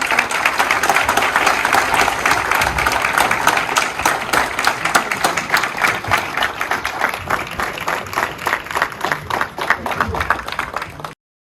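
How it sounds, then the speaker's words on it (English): An audience in a hall at Oxford applauds after an English-language speech by Annamalai, with loud, sustained, crowded clapping filling the room for over ten seconds before cutting off abruptly. "Now is the time to clap."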